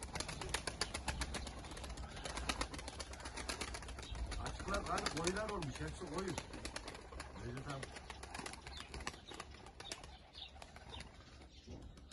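Tumbler pigeons in a loft flap and flutter as they land, with soft cooing and scattered wingbeats close by, while someone speaks quietly over them.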